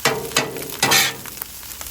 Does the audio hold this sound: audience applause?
no